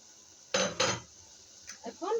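A metal spoon scrapes and clinks against a cooking pot while stirring ginger, garlic and onion paste into chicken and potato curry, two quick knocks followed by softer scraping taps, close and fairly quiet.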